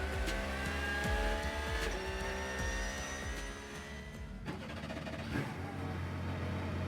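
Porsche race car pulling away from the starting grid, engine revving loudly and climbing through gears with sharp shifts, then a second engine note rising behind it amid trackside rumble.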